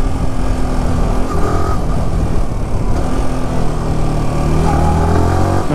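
A Yamaha R15 motorcycle, with a slight lag on initial acceleration, revs and pulls away in a steady, loud engine drone that holds for several seconds with rising tones.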